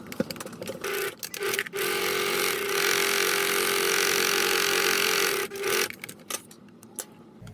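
A sewing machine with a rolled hem foot hemming fabric for a Krishna costume turban, a steady whirring run of several seconds framed by brief starts and stops, close and alone.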